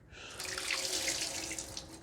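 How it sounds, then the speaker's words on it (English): Water poured into a kitchen strainer, a continuous splashing gush lasting about two seconds, fairly close and steady, with no talking. "I'm going to pour it back in the strainer"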